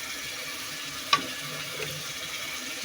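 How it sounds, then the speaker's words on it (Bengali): Around a dozen shelled prawns are stir-fried in oil in a pan, giving a steady, moderately loud sizzle throughout with a single sharp utensil click and no voices. "10 মিনিট 15 মিনিটের মতো এগুলো কষাবো আমি"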